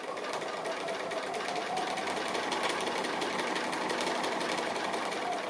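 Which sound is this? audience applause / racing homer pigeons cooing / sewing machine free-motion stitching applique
sewing machine free-motion stitching applique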